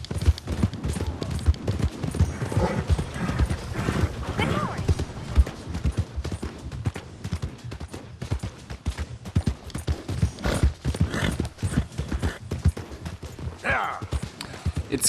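A horse's hooves clip-clop steadily while ridden in Red Dead Redemption 2, a brisk, uneven rhythm of close hoof strikes running continuously.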